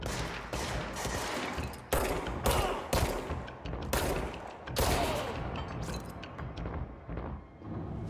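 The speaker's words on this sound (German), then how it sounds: "Kopfschuss." Sustained gunfire from the video game Control, with dense bursts of shots and several sharp, loud impacts amid continuous combat noise; no talking.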